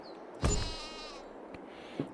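A single close dairy sheep bleat in Farming Simulator 22, short and wavering, followed by quiet background with a couple of soft clicks.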